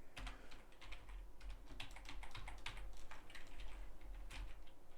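Someone types on a computer keyboard in a continuous patter of quick keystrokes. The keys are close but quiet, over a low background hum.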